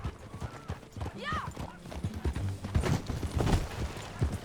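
Horse hooves clip-clopping at a steady riding pace in the video game Red Dead Redemption 2, with a brief whinny and a voice speaking over the rhythmic hoofbeats.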